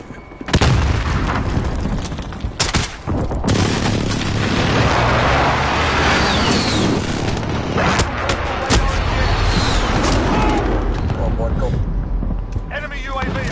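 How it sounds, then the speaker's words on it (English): Airstrike in the shooter game Call of Duty Modern Warfare: a string of loud, booming explosions and blasts rolling one after another close by, with a voice shouting over the chaos. "It's an airstrike."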